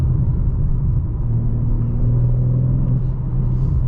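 Low rumbling engine and exhaust note from a 2022 BMW M4 Competition coupe heard from inside the cabin while driving, steady and loud with faint burbling undertones as the throttle eases off.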